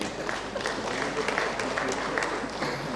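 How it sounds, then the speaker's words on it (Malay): Applause from an audience at a school retirement ceremony for an education official in Terengganu, a steady broadband patter of clapping lasting throughout with some crowd murmur mixed in. "Tunggu tepukan."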